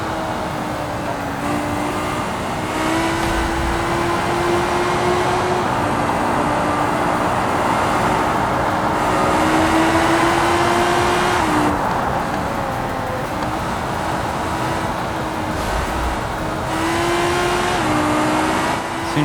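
Car engine in the video game BeamNG revs and holds high while drifting, a loud continuous motor whine rising and falling with throttle changes, with tire and road noise underneath throughout.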